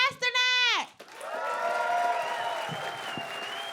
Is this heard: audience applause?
yes